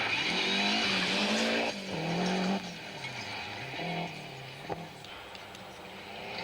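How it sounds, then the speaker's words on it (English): A 1991 Lancia rally car races through a stage at the British rally, its engine loud and close, revving hard and shifting through gears with a sharp pop near the end as it passes. "Juha Kankkunen in the Lancia continued to drop precious seconds"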